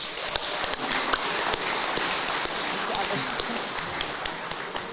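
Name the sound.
audience applause at an awards ceremony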